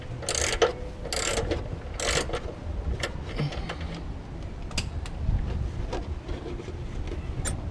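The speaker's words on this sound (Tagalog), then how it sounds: "huwag kang mahiya, gamitin mo pa rin yung iyong ratchet" Ratchet wrench loosening a car's oil drain bolt, bursts of quick metallic clicking in short strokes followed by scattered taps and clinks against a low background hum.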